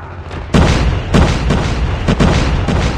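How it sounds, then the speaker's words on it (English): A loud burst of booming blasts as an enemy sentry gun is destroyed in Call of Duty Mobile, several heavy explosive hits in quick succession over a dense roar of battle. "Enemy sentry gun has been destroyed."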